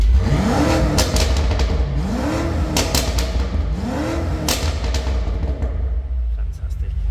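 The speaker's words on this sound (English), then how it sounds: "we're going to Sport Plus mode now and also activate the M exhaust" A BMW M5 4.4 V8 in Sport Plus mode with the M exhaust active revs loudly three times in a steady rhythm, each rise and fall distinct, over a constant close engine rumble that settles into a steady idle.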